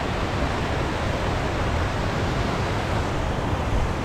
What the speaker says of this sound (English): There's a waterfall up ahead.